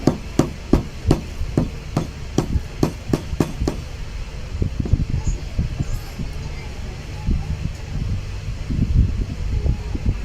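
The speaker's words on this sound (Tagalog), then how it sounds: "gamit tayo ng martilyo." A hammer taps a PVC pipe during an electric fan repair, about ten sharp evenly spaced knocks in the first half, followed by lighter irregular handling clatter and rustling toward the end.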